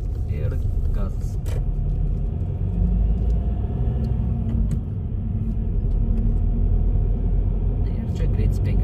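A car accelerates in second gear through a turn during a driving lesson on Klaipėda streets, its engine a steady, close, low rumble that runs unbroken under a voice talking.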